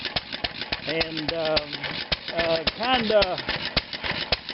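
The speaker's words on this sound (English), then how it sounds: "That engine's been running here for about, I'm going to say, an hour or so" A 1929 McCormick-Deering type M flywheel engine runs with a steady, rapid ticking and knocking beat that continues throughout, close by, while someone talks over it.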